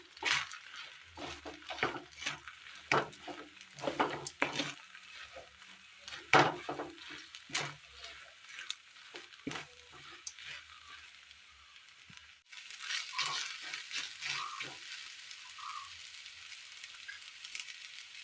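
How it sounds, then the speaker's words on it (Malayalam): Lightly wilted ingredients are tossed and stirred in a frying pan with uneven scraping taps and clatter, then a louder, steady sizzle takes over near the end. "ചെറുതായി വാട്ടി വെച്ചിരിക്കുന്ന മറ്റു സാധനങ്ങൾ കൂടി ഇട്ട് കൊടുക്കാം. നന്നായി ഒന്ന് മിക്സ് ചെയ്തെടുക്കാം."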